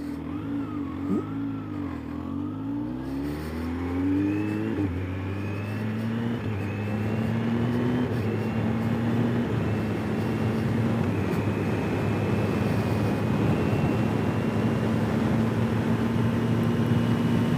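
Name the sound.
motorcycle riding on a road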